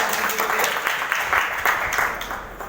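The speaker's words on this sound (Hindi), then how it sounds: "एक बार जोरदार तालियां होनी चाहिए।" Audience applause at a business meeting, a dense, fairly loud patter of clapping hands that rises and then tapers off over a few seconds.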